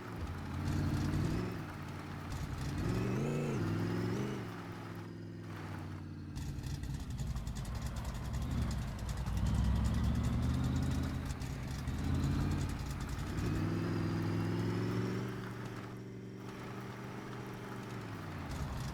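A race car engine in a racing video game, revving up and down through gear shifts with a steady tonal drone, loud and close, dipping briefly at two points before climbing again.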